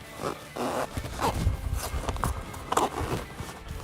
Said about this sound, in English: We have the zipper, ensuring both halves of the zipper are equally aligned